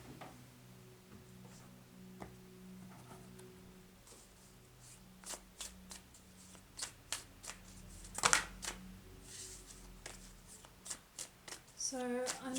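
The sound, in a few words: shuffling a deck of cards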